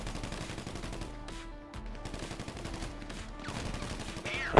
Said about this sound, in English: Who the fuck's shooting me from behind, dude?